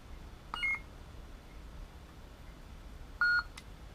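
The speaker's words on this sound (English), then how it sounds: "you press and hold this button through 2 beeps." Two short electronic beeps from an MHS Mace lightsaber as it switches sound font, one near the start and one near the end, clear but modest over a quiet room hiss.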